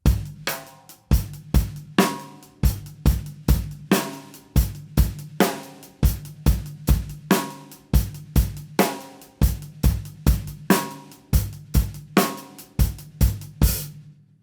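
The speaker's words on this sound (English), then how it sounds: "play the rhythm between the bass drum and the snare drum for Partido Alto, it would sound like this" Partido Alto rhythm played alone on a drum kit's bass drum, snare drum and hi-hat, a crisp, close, steadily repeating syncopated pattern of booming kicks and sharp snare cracks.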